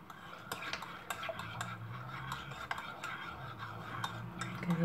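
A spoon stirs chai tea in a cup, tapping and clinking against the sides in a quick, irregular rhythm. The sound is close but quiet, over a soft low background hum.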